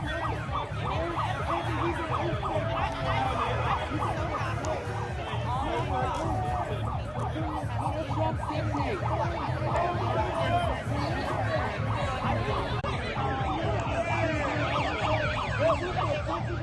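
A police car siren wails through a crowd at a nighttime protest in Portland, Oregon. It rises and falls in a steady repeating pattern under continuous crowd chatter and shouting voices.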